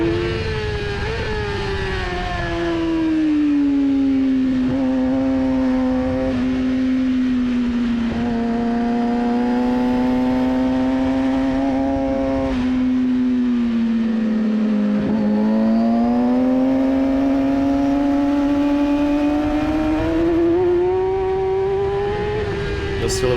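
A Yamaha R3 racing motorcycle at full throttle through lap traffic, its loud, close engine whine rising and dipping with the gear changes and swelling again as it drives out of a corner.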